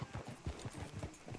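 Horse hooves clip-clop in a steady, brisk rhythm throughout a PS4 video game scene, the close, even beats repeating without pause.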